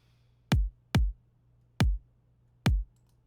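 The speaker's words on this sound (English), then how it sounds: "this is the sound of the kick drum with that EQ" Four punchy, deep kick drum hits, sampled and EQ'd, sound alone in an uneven rhythm, each a short booming thump against near silence.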